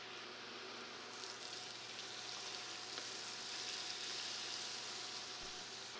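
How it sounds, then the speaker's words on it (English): Butter melting in a pan, a steady, soft sizzle and gentle frying crackle that holds constant throughout, close and quiet, with no voices. "melting the butter."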